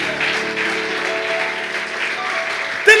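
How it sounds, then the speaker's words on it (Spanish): A church congregation applauds over sustained organ-like music, the clapping a steady moderate patter beneath the held tones, with a sharper loud burst right at the end. "¿Cuánto le da un aplauso al Señor de Chile?"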